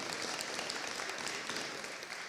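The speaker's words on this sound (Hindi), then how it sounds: "जोरदार तालियां होनी चाहिए।" Applause from a church fellowship gathering right after a birthday song, a dense, steady wash of many hands clapping at moderate level throughout with no talking.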